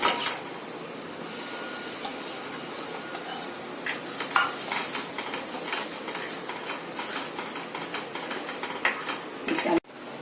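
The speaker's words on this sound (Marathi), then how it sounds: "मग त्यात आपण आता हे पालक जी भाजी केली होती ना ती वाली टाकायची" Cooked spinach goes into a frying pan and is stirred, making a continuous soft sizzle with quick scraping and clinking taps of the spoon against the pan, close and fairly quiet, with no talk.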